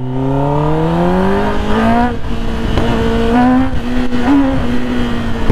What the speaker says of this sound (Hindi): ये देखो राइडर वन पे डाल दिया है ये दिखाएंगे आप लोगों को wheelie Z x ten are पे